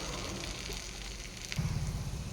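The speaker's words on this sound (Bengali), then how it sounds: "একটা মাঝারি সাইজের পেঁয়াজ নিয়েছি, এটাকে লাল লাল করে একটু ভাজা করে নেব" A medium-sized onion frying in hot oil for a fish curry, a steady soft sizzle with faint crackle throughout, swelling slightly louder toward the end.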